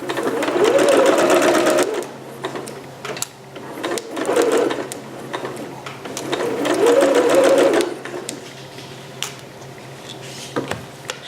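A sewing machine runs a regular 5/8 inch seam in bursts of steady whirring stitching, loud and close, with short pauses between runs and a few small clicks near the end.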